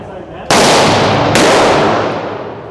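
Two sharp, loud gunshots from a Smith & Wesson M&P 2.0 9mm pistol fitted with a forced reset trigger, fired at a range, spaced under a second apart, each with a long ringing decay and no talk over them.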